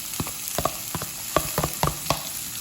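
Two medium chopped onions frying with green chilies: a light sizzle under a series of quick, close spatula taps and scrapes against the pan in an uneven rhythm.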